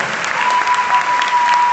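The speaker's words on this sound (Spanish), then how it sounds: "De verdad, un fuerte aplauso para nuestros diputados" Steady, dense applause from a large audience at a packed political assembly in Miami, sustained throughout with no pauses, fairly loud and even.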